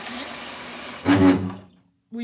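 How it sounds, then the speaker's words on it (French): A noisy bathroom washbasin with water running into a large bowl, a short loud rushing burst that fades out, with someone speaking briefly before and after. "mon lavabo fait du bruit."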